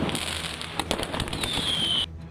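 Firecrackers thrown by protesters at police during a street clash, several sharp pops and crackles over a noisy outdoor background, with a thin high whistle near the end.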